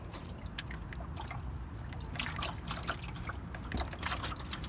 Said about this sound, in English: there is a lot of water in there, and look, it's even dripping down